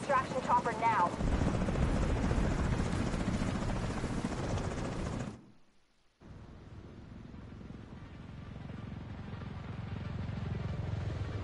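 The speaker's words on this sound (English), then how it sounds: "we need to get Chernenko on that extraction chopper now" A helicopter's rotor thrum in The Division 2 mixed with game action and voices, dropping out briefly before the low engine drone returns and builds.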